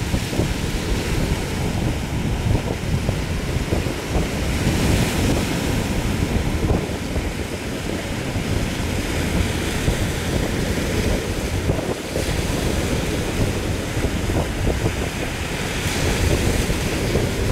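Ocean waves crash and wind roars steadily around a fishing boat racing to shore ahead of a storm squall, a loud, continuous rushing wash with gusts buffeting the microphone.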